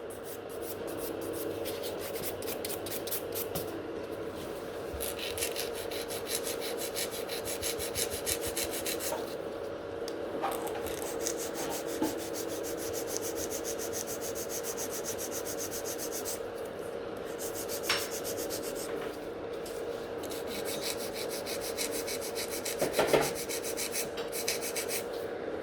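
A nail file steadily rasps and blends gel nail extensions on tips, a continuous close scratching rub lasting throughout with small variations in stroke.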